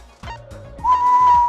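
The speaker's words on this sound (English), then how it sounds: "don't whistle into the mic" A person whistles straight into a microphone, a short low note rising into a loud, sustained high tone, with a faint rhythmic background beat underneath.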